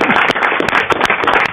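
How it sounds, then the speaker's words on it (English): Audience claps after a lecture on globalization and infectious diseases, a loud burst of crisp, close hand claps with sharp irregular smacks over a brief stretch. "Well, give him a big clap."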